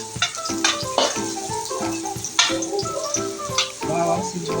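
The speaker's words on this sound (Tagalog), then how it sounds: "Nagigisa na." Vegetables with banana heart being sautéed with garlic, onion and tomato in a pan: a dense, continuous close sizzle with stirring scrapes over a steady background hum, no voices.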